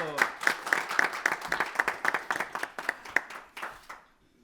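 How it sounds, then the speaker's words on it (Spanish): A conference audience gives a modest round of applause to welcome a speaker, with individual claps clearly distinct in a fairly quick, uneven rhythm, close and moderately loud, fading out near the end. "un aplauso, que no sea tan frío el recibimiento"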